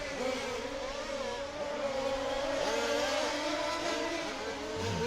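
Several race cars circle a track in a racing series as one pulls a clean overtaking pass, engines droning and whining through gear changes, with overlapping pitch sweeps from multiple engines at moderate distance.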